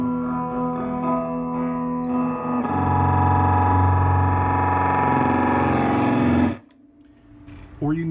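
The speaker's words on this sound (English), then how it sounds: "we start to get a doubling sound, a chorus sound." Guitar run through an MWFX Judder effect pedal producing a thick doubled, chorus-like sustained tone that swells louder midway, then cuts off abruptly into near silence.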